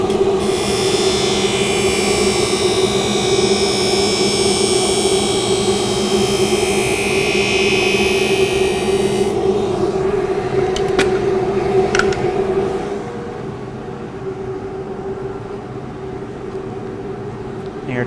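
A Blademaster skate sharpening machine runs its grinding wheel along a skate blade, making a loud, steady whine and hum. The bright grinding hiss stops partway through, a couple of clicks follow, and the motor hum continues more quietly.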